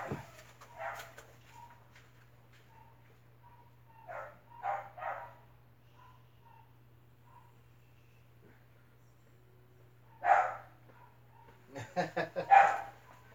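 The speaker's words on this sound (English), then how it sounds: "Oh, my dogs are barking." Scattered dog barks and yips come in short bursts, fairly faint at first, with a louder cluster of barks near the end.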